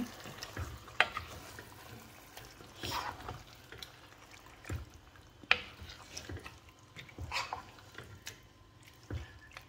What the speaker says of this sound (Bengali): মাছটা দিয়া আস্তে আস্তে নাড়াচাড়া করে লই। মশলার সাথে মিক্স করে লই।